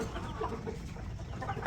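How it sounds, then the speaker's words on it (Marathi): A rooster gives soft, low clucks close by in a rural setting, faint and brief over a quiet murmur, with a sharper note at the very end. "हे कोंबडा बघ"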